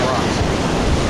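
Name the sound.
waves crashing on rocks at the shore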